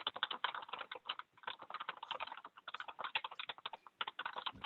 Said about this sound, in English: you have to mute as you're typing